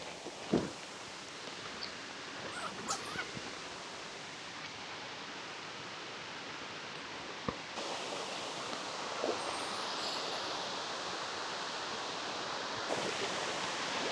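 A waterfall gives a steady, dense roar of rushing water that fills the scene evenly from start to finish, with a few faint clicks over it and no voices.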